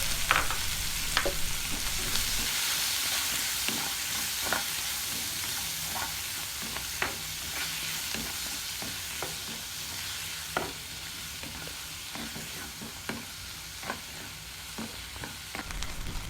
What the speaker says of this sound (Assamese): এতিয়া ইয়াত এড কৰি দিছো পিঁয়াজ অলপ ভালকৈ ভাজি কৰিম।